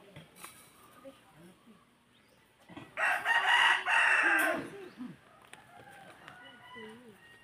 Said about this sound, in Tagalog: Daming manok dito guys